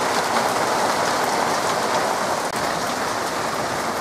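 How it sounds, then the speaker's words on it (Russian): Heavy summer rain in Barnaul in August, pouring steadily with a thick, even hiss and patter on surfaces nearby, loud and unbroken, without any speech. "Хорош дождичек."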